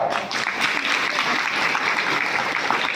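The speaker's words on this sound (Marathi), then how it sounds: "टाळी वाजवा" A crowd at a devotional padyatra gathering claps together, a dense, even burst of applause that fills the whole stretch at close range, with no clear talk over it.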